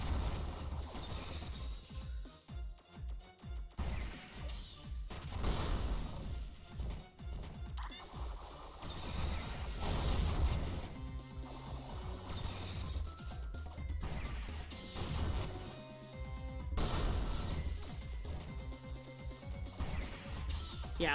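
Bombs blasting rocks apart in the 2D game Iconoclasts, with repeated crunchy crash and smash effects over continuous game music, fairly steady and dense, no voices.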